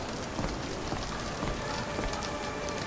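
Steady rain falls in the video game Sherlock Holmes: The Awakened, a dense, continuous hiss of drops on surfaces that stays even and close throughout with no voices.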